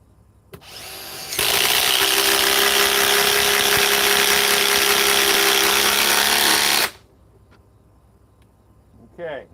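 A Ridgid power drill fitted with a tabless battery spins up and runs at full speed for about five seconds, a loud steady whirring whine that cuts off abruptly, followed by quiet handling noise and a short knock.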